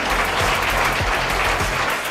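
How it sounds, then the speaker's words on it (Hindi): An audience at a campus placement event applauds steadily for students who landed jobs, a dense, even wash of many hands clapping close by without pause. "एक बार ताली तो बजनी चाहिए भाई।"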